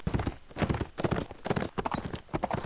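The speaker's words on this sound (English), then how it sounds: "Oh, looks like Tyrion found another horse." Horse hooves gallop in a Mount&Blade: Warband multiplayer battle, a loud, rapid clip-clop of several riders close by. The beats come in uneven bursts with no pauses.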